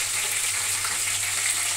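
Bombay duck (loitta) fish fry on one side in a pan over a gas flame, a steady close hiss of hot oil with no other sounds and no talk.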